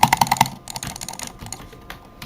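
A cheap 2-euro computer keyboard from Carrefour clacks through a quick run of five sharp keystrokes, then continues with softer, scattered key taps, close up and with no voices.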